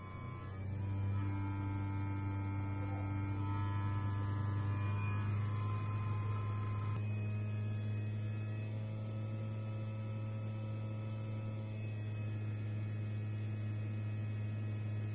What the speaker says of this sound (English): here I'm running the motor at 17 volts